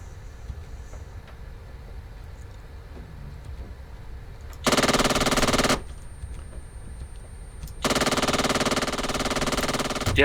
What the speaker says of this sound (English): I'm gonna make a gun run on the FOB.